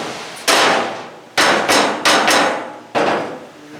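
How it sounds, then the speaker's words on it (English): Five sharp hammer blows strike a frame part on a 1970 Cougar, knocking it into place in uneven bursts, loud and close with each hit decaying briefly before the next. "I'm just going to take this hammer politely to make sure that it's pretty much in place."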